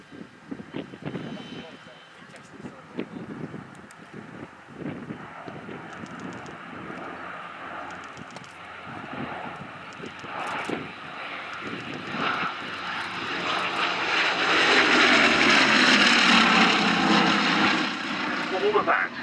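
A Bristol Blenheim warbird flies past at the Duxford Battle of Britain Airshow, its piston engine drone swelling from distant to a loud, sustained roar, under airshow commentary.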